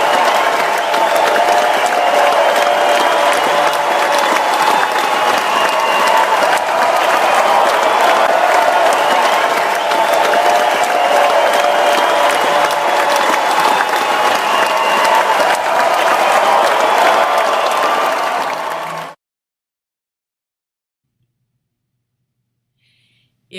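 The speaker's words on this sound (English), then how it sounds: "join me in giving a big round of applause to Radhika ji along with me" An audience applauds Radhika Shurajit with sustained, even clapping for about nineteen seconds before it stops abruptly into silence.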